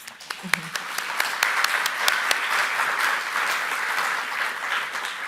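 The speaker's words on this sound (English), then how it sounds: "So a round of applause for yourselves." Conference audience applauding at an opening plenary, dense steady clapping from a large hall with a few sharper nearby claps standing out, lasting throughout.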